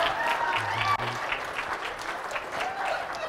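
An audience at a comedy magic show claps for a volunteer, a busy crowd applause with some individual claps standing out, while a voice is heard briefly near the start.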